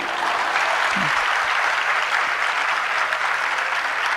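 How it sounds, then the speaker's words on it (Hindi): Audience applause at a Jain sermon in Jabalpur fills the whole stretch, a steady dense clapping from a large crowd with no pauses. "धन्यवाद है आप लोगों के धीरे धीरे तालियों के लिए।"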